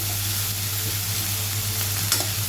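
Onion cooks with a little sugar in a pan for a cabbage palya, a steady close sizzle with a low hum beneath and one brief stirring scrape near the end, no talking.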